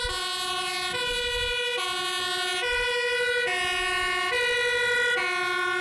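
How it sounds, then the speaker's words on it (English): A loud two-tone siren on a European fire truck alternates steadily between high and low pitches, close by, with a low engine rumble beneath it. "That is actually really booming, that siren."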